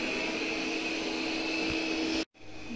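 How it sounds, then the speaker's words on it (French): A robot vacuum cleaner runs under the beds with a steady whirring hum and faint tonal whine, then cuts off abruptly near the end, leaving a quieter room tone. "je vais aller mettre mon aspirateur robot pour passer sous les lits"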